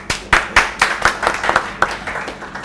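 Hand claps from a live comedy show, about nine sharp claps in an uneven rhythm. They are fairly close and loud, and there is no talking.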